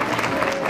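School annual function audience clapping for students, a steady dense wash of applause from a crowd, continuous and fairly loud throughout.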